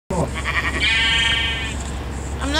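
Sheep in a video game gives a single drawn-out bleat, close and clear, with a low steady background hum and a brief voice-like sound near the end.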